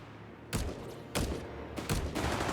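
Bursts of gunfire striking a Panzer tank in the World War II strategy game Company of Heroes 3, several loud rattling volleys spaced about half a second apart over a steady battle din.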